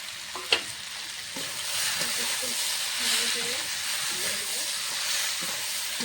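Small guro fish fry in a pan with a steady, fairly quiet sizzling hiss, one brief clack early on and faint voices murmuring underneath.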